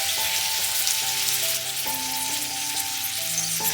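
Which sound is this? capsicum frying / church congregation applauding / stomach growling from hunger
capsicum frying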